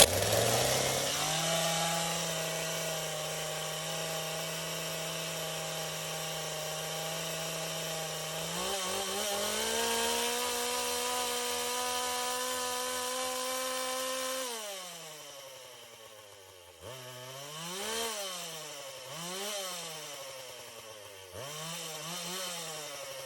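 A chainsaw pulled from a trash pile runs at a steady loud idle, then revs up and down several times in quick bursts toward the end, close by with no talk.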